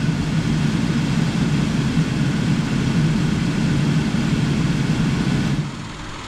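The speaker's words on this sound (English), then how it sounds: "Now if I power this up direct, the blower motor works fine" A Cavalier Diplomat car heater blower motor runs on direct power with a steady, loud whooshing fan roar and a low motor hum. It drops off abruptly near the end, leaving a quieter hum.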